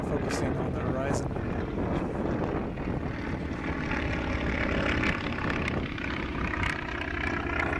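A propeller airplane, a WWII-era Wildcat, makes a low pass at a Heritage STOL short takeoff and landing competition in Virginia Beach, its steady engine drone loud and continuous under wind noise and people talking.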